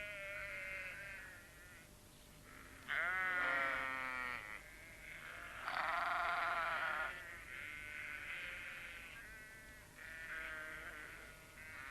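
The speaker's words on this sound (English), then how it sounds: "The sheep were glad to see them." Several sheep bleat in turn, wavering cries rising and falling over a quiet outdoor background, some louder and closer than others.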